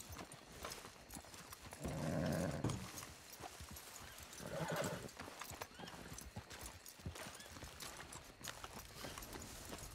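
Horses in Red Dead Redemption 2 clop along steadily with continuous hoofbeats. Two louder whinnying bursts rise over the footfalls, all fairly quiet and distant.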